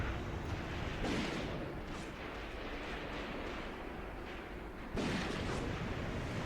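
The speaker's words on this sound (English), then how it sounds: "Some of our guys are shooting at them now from the flank." Gunfire from the flank in Graviteam Tactics comes as dull, distant booming bursts and rumbling pops over a steady battle background.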